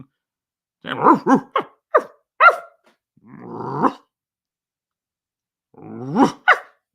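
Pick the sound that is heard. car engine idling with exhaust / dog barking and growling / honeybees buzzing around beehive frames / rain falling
dog barking and growling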